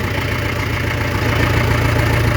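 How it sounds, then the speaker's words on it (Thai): A Ford farm tractor's engine idles steadily out in a sugarcane field, a close, loud, even diesel rumble with a faint knock running through it, and no voices. "อยู่กับโกรถไถฟอร์ดซิ่ง"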